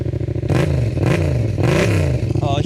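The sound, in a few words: car engine revving with aftermarket exhaust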